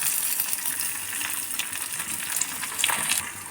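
Steady crackling sizzle of lentils and spices frying in hot oil, close and continuous, with occasional brief spatters.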